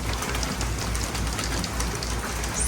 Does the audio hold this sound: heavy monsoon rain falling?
yes